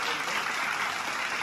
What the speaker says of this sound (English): Fraser earning the artificial applause there after a good clearance